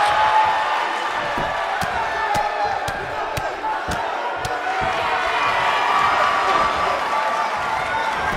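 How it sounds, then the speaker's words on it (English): Virtual arena crowd in the WWE 2K19 wrestling game cheers and roars steadily throughout, a dense broadband wash with sharp slam-like impacts and faint commentary underneath. "And the crowd is loving it."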